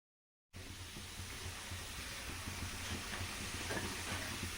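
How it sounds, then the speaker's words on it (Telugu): French fries frying in hot oil give a steady, close, broadband sizzling hiss that starts abruptly and holds at an even level with faint crackles throughout. "ఇలా ఆయిల్లో రెడ్గా ఎలాగైతే వేయించుకున్నాం మేము"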